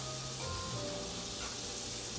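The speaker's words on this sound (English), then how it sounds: "I think keeping it at a good sizzle" Steak sizzling steadily in a hot pan for a steak and cheddar mac and cheese cook, a continuous close hiss with a brief clatter at the end, no talking.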